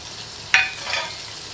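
Onions and tomatoes sautéing in a pan for egg rice: a single sharp stirring scrape, then a soft hiss of frying and a second fainter stir over a low background.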